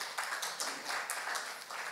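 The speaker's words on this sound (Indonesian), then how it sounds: "Tepuk tangan untuk Tuhan." A church congregation at a Sunday worship service claps in a quick, even rhythm, sounding faint and somewhat distant through a brief stretch.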